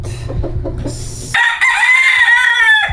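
A rooster crows loudly and close by, one long drawn-out call, after a stretch of lower clucking and farmyard bustle.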